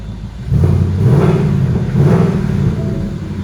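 A 2019 Ford Mustang GT convertible engine idles with a deep, steady rumble close by, swelling slightly twice as it runs, with no voices.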